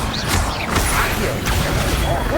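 Accio summoning spell cast in Hogwarts Legacy, a dense magical whooshing and mechanical clatter with a few sharp swishes and impacts over a steady loud game-soundscape rumble.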